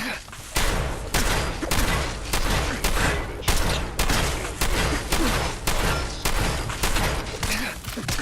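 Repeated shotgun blasts in the video game Fallout 4, a steady volley of about a dozen loud, close booms roughly every half second with little pause between them.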